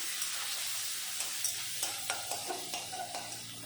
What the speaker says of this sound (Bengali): কড়াইয়ের এই তেলের ভিতরে দিয়ে দিলাম কুচানো পেঁয়াজ